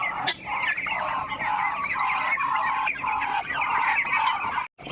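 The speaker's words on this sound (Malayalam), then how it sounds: "എല്ലാവരെയും അഴിച്ചു വിടാൻ വേണ്ടി എല്ലാവരും കിടന്ന് ബഹളം ഉണ്ടാക്കുക." Muscovy ducks in their coop raise a loud, continuous clamor of hoarse honking calls in overlapping bursts, close by, cutting off abruptly at the end.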